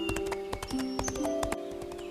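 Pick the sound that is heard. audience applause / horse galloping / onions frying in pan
horse galloping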